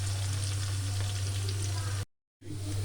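Onions frying for haleem over a medium flame, a steady close sizzle with a low hum underneath, cut by a brief moment of silence before the sizzling resumes.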